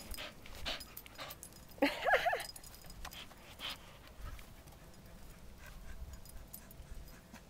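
A dog pants quietly and rhythmically close by, with a brief louder burst of breathing and whimpering early on against faint room noise.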